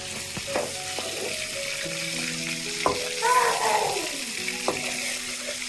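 Cauliflower fries gently in a pan with soft sizzling and occasional stirring scrapes and clinks of a utensil against the pan, close and moderately quiet.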